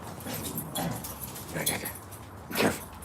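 Mini Bernedoodle puppies play in a backyard, giving soft whimpers and scuffling noises, mixed with people talking nearby.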